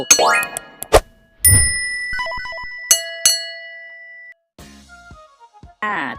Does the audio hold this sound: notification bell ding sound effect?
yes